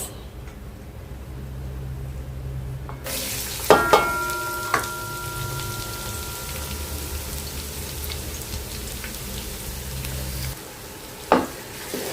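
Onions go into hot oil already fragrant with cinnamon, cardamom and garam masala, bursting from a quiet hum into a loud, steady sizzle, with a ringing metallic clink and a few stirring knocks.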